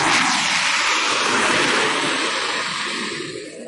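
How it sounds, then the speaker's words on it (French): An airplane sound effect roars loud and near from the start, a broad rushing engine drone that holds steady and then fades slightly toward the end as the aircraft passes, with no voices. "rajouter cet effet sonore d'avion qui passe"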